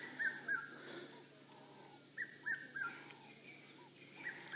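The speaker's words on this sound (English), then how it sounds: "Leopards on the move with the sound of a cuckoo in the background." A cuckoo calls in the African bush where leopards are moving, its short two-part whistled phrases repeating in small clusters, faint and somewhat distant over a quiet background hiss.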